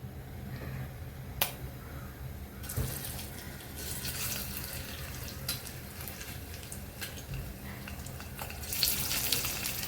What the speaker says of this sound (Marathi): आपलं पनीर फ्राय करायचं आहे.